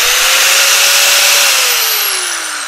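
A T-Max angle grinder with a metal head runs alone at full speed, giving a loud, steady high-pitched whine that drops slightly in pitch and volume toward the end as it begins to slow.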